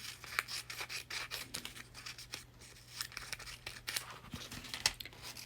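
Scissors snip steadily through small paper pieces being cut for a mosaic, a close, continuous run of crisp rubbing cuts with no talking.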